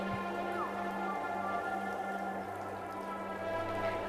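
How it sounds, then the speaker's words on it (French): Steady, dense hiss of heavy, warm tropical rain falling continuously in forest in French Guiana, with a low background hum running throughout and no voices. "Pluie torrentielle, chaude, tombant en trombe, frappant terre, bêtes, feuilles, creusant, ravinant."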